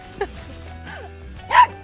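A little pup on a mountain hike to Goat Lake gives a few short, yappy barks and a whimpering yip, close by and fairly clear over a low steady background hum.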